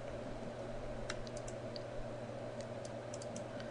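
Keys on a computer keyboard tapped while entering a spreadsheet formula, a sparse handful of light clicks scattered over a steady room hum, fairly faint and without any talk.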